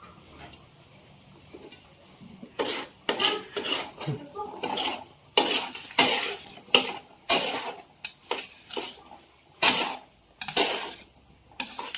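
Potatoes go into a frying pan and are stirred, giving repeated close scraping and clattering strokes in an irregular rhythm over a low background hum.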